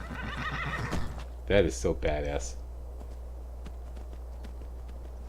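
In Skyrim, an Elven Armored Horse lets out a loud, close whinny in two bursts, with light hoof clops before it. Someone speaks briefly over the start.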